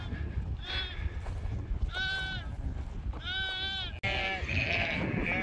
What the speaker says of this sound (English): There's two little black lambs, this one and another one.